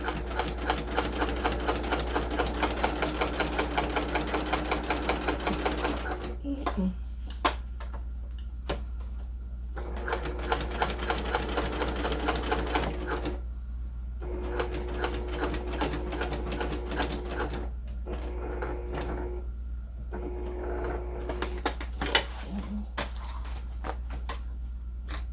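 A sewing machine stitching block with canvas runs in steady, rapid ticking bursts, stopping and restarting several times with brief pauses between runs, close and moderately loud with no talking.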